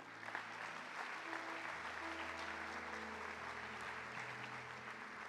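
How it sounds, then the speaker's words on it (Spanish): A church congregation applauds during a Spanish-language sermon, a steady wash of clapping from a sizeable crowd heard from a distance with sustained musical tones underneath, continuing evenly throughout. "¿Alguien le puede dar un aplauso a Dios?"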